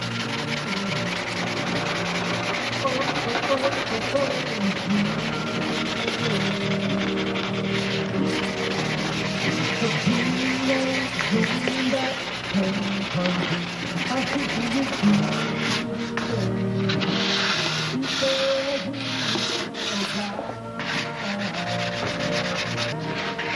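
Steady hand sanding on a balsa model airplane wing finished with silkspan, a continuous close rubbing scrape with uneven strokes that carries on throughout.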